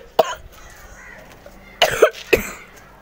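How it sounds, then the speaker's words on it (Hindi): A few sharp coughs, one early and a cluster of two or three later, close and fairly loud against a quiet room. "एक तो खांसी का बुरा हाल है मेरा"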